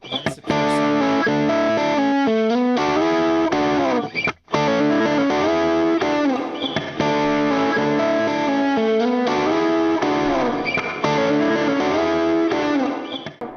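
Electric guitar played through a Neural DSP Soldano SLO-100 amp simulation with the bass backed off, giving a dense, continuously loud, saturated tone of sustained chords and riffs, broken by a brief cut near the middle, no voice.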